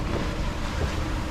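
Wind and high waves buffet a steel expedition sailboat in a Newfoundland gale with snow, a loud, continuous roar of gusts and rushing water with rough rumbling swells and microphone wind noise.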